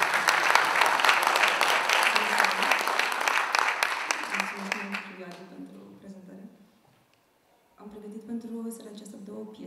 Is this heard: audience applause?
yes